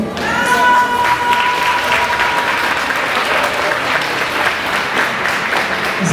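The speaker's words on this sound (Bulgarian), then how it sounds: "бурни аплодисменти" A large audience gives the Osogovo dance ensemble loud, dense, sustained applause from start to finish, a steady wash of many hands clapping close by.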